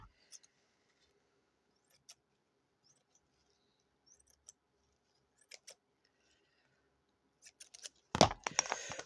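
Scissors cutting a piece of lace, a few soft, sparse snips scattered through near-silence, then a louder burst of rustling and cutting close by at the end.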